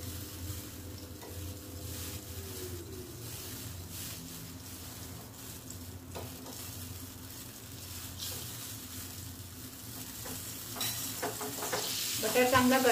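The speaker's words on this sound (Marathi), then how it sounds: "बटर आपला चांगला विरघळून घ्यायचा आहे" Butter melting in a pan for moong dal khichdi, a quiet, continuous sizzle with a low steady hiss that grows brighter and crackles more toward the end.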